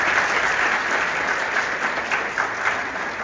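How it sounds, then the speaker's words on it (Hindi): Devotees at a Shiv Katha religious discourse in Edmonton, Canada break into sustained, dense applause, a steady wash of many hands clapping at close range with no pause across the whole stretch. "आप सब तालियां बजाकर खूब"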